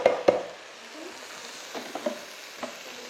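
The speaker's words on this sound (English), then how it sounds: "The next thing I'm going to add is my tin of chopped tomatoes, and this is going to help to make the sauce" Canned chopped tomatoes poured into a hot pan and stirred, giving a soft sizzle with a few wet clanks and scrapes of the spoon against the pan, close and fairly quiet.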